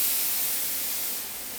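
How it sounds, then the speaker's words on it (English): A can of red spray paint hisses in one continuous burst close by, steady and fairly loud, easing off slightly toward the end, with no voices. "spray some can down here to show them how it looks with the red."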